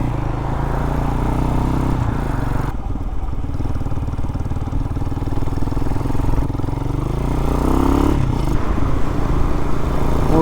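Hawk-X 250 motorcycle riding along back roads, its mid-pitched engine droning steadily and loudly up close with slight throttle swells and wind buffeting throughout.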